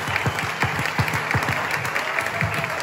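Audience applause at a board game festival gala in Barcelona, dense steady clapping from a crowd with individual claps standing out near the front, continuous throughout.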